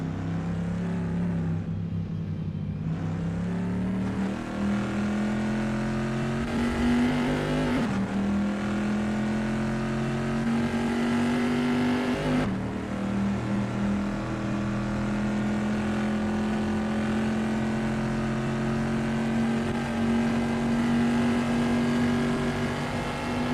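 A historic pre-1973 race car in a racing game carries its loud engine through the Rivazza corner at Imola, a close continuous drone rising in pitch with sharp upshifts, no talking.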